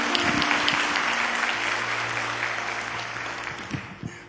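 A church congregation's applause fades gradually from a moderate patter into scattered, thinning claps with a few isolated louder slaps near the end.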